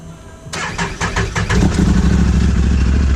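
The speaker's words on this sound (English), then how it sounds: "it really helps to take and just crank the machine on" A UTV engine cranks briefly and catches, then settles into a steady, rumbling idle. It is close and loud, and no one speaks.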